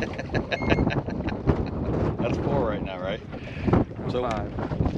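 Strong wind buffets the microphone on a lake during a fishing trip, a loud gusting roar with water slapping a boat, while voices talk over it.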